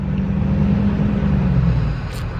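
A camper van idles and creeps along a high-altitude mountain road, its steady low engine rumble close and constant with no voices.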